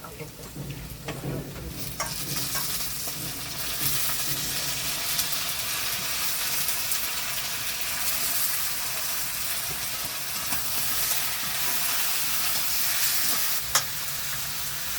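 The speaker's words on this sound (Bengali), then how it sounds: "পেঁয়াজ রসুন সব কিছু ভাজা হয়ে গেছে, এখন মাংস দিয়ে দিচ্ছি।" Mutton hits a pan of fried onion and garlic for a Bengali mutton curry, producing a loud, continuous close-up sizzle with stirring scrapes and occasional clicks throughout.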